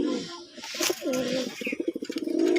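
A male Gola pigeon, one of a pair, coos in a quick run of pulsed, throaty calls that grows denser toward the end, close by and fairly loud.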